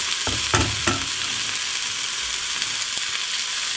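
Bacon sizzles in a frying pan with a loud, steady, bright hiss, broken by a few quick clinks near the start.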